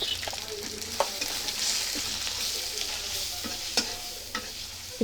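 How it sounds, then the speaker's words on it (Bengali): Onion frying with ginger paste, garlic paste and turmeric in a pan, a steady close sizzle broken by several sharp clinks and scrapes of a stirring spoon, with no speech. "ভালো করে ভেজে নিব"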